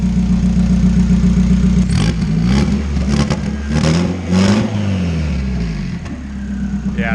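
A turbocharged Honda Prelude with an F20B engine, running poorly and in need of tuning, revs up repeatedly from idle, rising and falling in close, loud surges over a rough, steady drone.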